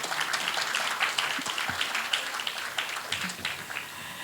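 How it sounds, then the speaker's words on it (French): Applause from an audience at a press awards ceremony in Côte d'Ivoire, a continuous crowd clapping at moderate level with a few sharper claps standing out near the microphone. "on peut aussi l'applaudir"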